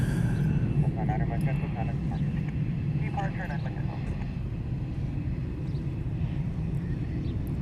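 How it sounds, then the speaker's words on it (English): A FedEx Sky Courier aircraft at Honolulu airport, its engines producing a steady, moderately loud drone while a person talks over it throughout. "here's the FedEx Sky Courier we were talking about the other day."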